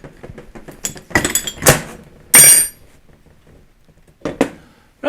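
A puller works a pulley off a Series 1 C40 dynamo: scattered metallic clinks, taps and knocks of tools on metal, with a sharp bright metal scrape or ping in the middle, close and uneven.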